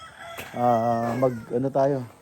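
A native rooster crows nearby, one long clear cock-a-doodle-doo followed by a shorter second crow.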